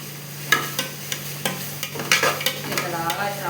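Tomatoes sauté with onions in a pan for chicken biryani, a steady low sizzle broken by sharp scraping strokes of a spatula stirring at irregular intervals, close and clear with no voices.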